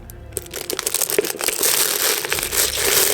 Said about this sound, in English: Wrap some cellophane around it maybe.